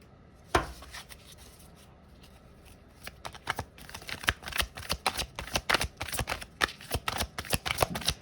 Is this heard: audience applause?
no